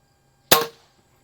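A single crisp pop from a Feinwerkbau model 65 Olympic-grade air pistol at a range, sharp and close with a quick fade and silence around it.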